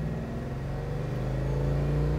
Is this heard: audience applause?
no